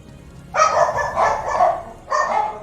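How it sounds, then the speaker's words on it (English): Several dogs bark loudly and close by in bursts of overlapping yelps and woofs, pausing briefly before another round of barking starts up. "My God, these dogs."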